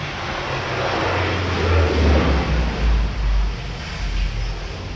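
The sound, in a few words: airplane landing at nearby airport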